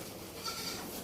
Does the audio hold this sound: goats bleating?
yes